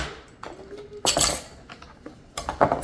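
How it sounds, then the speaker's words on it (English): A knife slices through sheets of phyllo dough on a hard surface, with two or three short crisp cutting bursts and light clinks of the blade against the board, close by and without talk. "Let's cut this phyllo dough into even slices."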